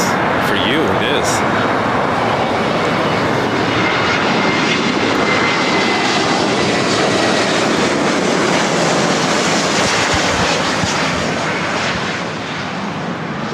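A Delta Airlines Airbus A321neo from Seattle comes in to land at LAX, a loud, broad roar of jet engines close by that stays strong throughout and eases slightly at the end.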